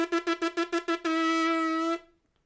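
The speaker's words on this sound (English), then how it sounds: "I'm also sort of like a double reed instrument, except my reeds are my 2 lips. So I go like this." A trumpet player buzzes the lips with no mouthpiece, giving six short, evenly spaced buzzy pulses followed by one longer sustained buzz that cuts off, heard close and alone.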